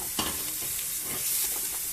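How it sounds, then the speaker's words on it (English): Garlic, onions, capsicum and bell peppers fry in a pan with a close, steady sizzle and faint scraping of a stirring utensil, with no voices. "fry them till the capsicum and bell peppers have become soft and the onions have a golden color to them"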